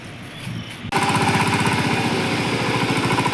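A tractor engine on a farm field kicks in abruptly and runs with a steady, loud, rhythmic chugging that carries on close by without any talk.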